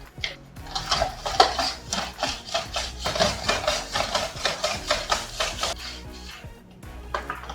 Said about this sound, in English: let's just use the slicer just to cut the onion and the carrots because we need to just cut those vegetables very thinly